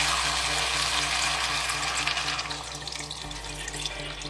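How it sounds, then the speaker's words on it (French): Hot water poured over browning meat with a cinnamon stick in a pot, a steady loud gushing rush of water with a faint underlying sizzle, continuous throughout. "je vais mouiller avec de l'eau chaude"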